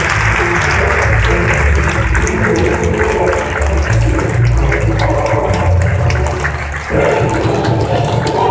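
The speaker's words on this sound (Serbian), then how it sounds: "Veliki aplauz, molim vas." Audience applause for an award recipient at the Balkan Music Awards, a dense, steady wash of clapping that fills the whole stretch, loud and close, with crowd murmur mixed underneath.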